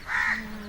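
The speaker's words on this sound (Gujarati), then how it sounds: "બધો પક્ષીઓનો કલરવ જોઉં" Birds calling under a banyan tree, heard here as a single short, harsh caw like a crow's, moderately close.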